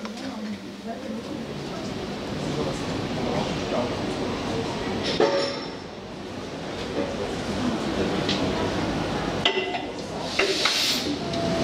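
Historic railbus set known as the Roter Flitzer runs along the rails, with a steady rumbling clatter and occasional clanks heard from on board, and voices murmuring through the ride.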